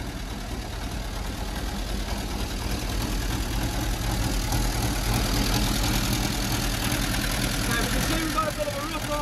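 A heavy military vehicle engine with a fuel leak idles steadily and loudly throughout, a constant low rumble with a faint rattling knock.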